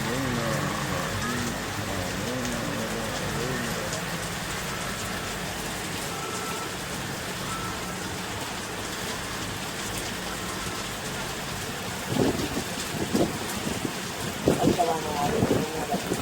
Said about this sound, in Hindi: ये कराची में जो बारिश अभी हो रही है